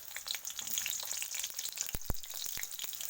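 Chopped onions fry in heated oil for pasta, a continuous close hiss dotted with small crackles and a couple of sharp clicks near the middle.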